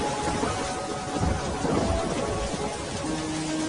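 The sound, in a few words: heavy rain with thunder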